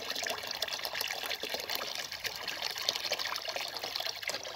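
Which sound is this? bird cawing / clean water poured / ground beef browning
clean water poured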